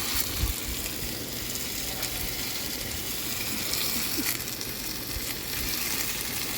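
Tomatoes and coriander sizzle steadily in a pan, a continuous soft frying hiss with faint crackles and occasional stirring clinks, close and moderately quiet with no talking.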